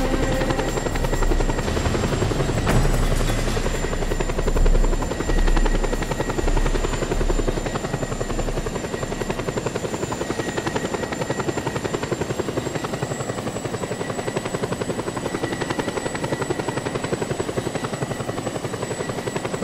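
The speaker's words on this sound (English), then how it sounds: "Panau Air Force chopper arriving shortly." Steady, continuous helicopter rotor drone from a Panau Air Force chopper arriving in the open-world game Just Cause 2, loud and constant with a whining high tone, no speech over it.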